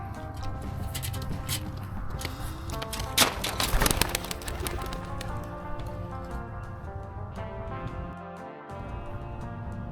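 A racing pigeon comes back to its loft after the first race of the season on a clear day after rain, with coos and wingbeats amid steady birdsong, a brief louder flurry around the middle, and a voice calling it in.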